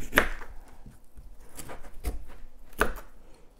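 Knife chopping fresh ashwagandha herb on a cutting board during harvest cleanup, giving three or four sharp, separate chops spaced irregularly, close and clear over quiet background.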